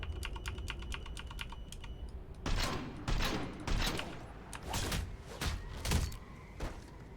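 Gunfire from Mass Effect 3, a run of sharp, close bursts after a stretch of rapid clicking, with heavier shots landing irregularly over several seconds.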